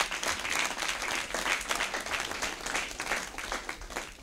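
A church congregation applauding during a French service, a steady burst of many hands clapping together at moderate distance, sustained for several seconds.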